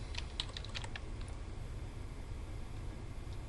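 Quick bursts of typing on a computer keyboard while entering commands in CAD software, soft rapid key clicks in the first second followed by quiet room hiss.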